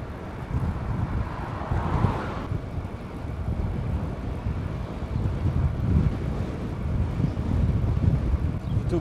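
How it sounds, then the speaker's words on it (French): A strong north wind buffets the microphone during a long-distance bikepacking ride in fog, producing a steady, loud rumbling roar that swells and gusts throughout, with no talking. "Il y a un sacré vent du nord quand même"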